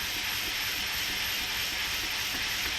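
A camp stove burner hisses steadily beneath a flour-sifter coffee roaster roasting Sidamo beans, a loud, even, continuous rush with no break and no voices.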